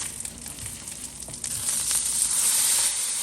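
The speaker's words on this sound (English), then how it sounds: "Listen to that sizzle." Brief stretch of hamburger patties sizzling in a pan, a dense hissing crackle that swells slightly louder toward the end.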